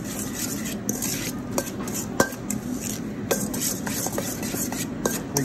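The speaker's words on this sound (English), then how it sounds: "Give that a nice mix with your spoon." A spoon stirring coarse ground pepper and salt into a poblano relish in a bowl, with a steady scraping and rubbing texture and occasional light clinks against the dish.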